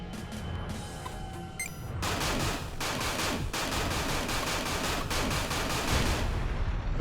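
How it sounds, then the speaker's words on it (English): Spaceship lasers in the game Everspace fire in rapid, evenly spaced bursts, loud and close, forming a continuous volley after a brief quieter opening. "No match for my lasers"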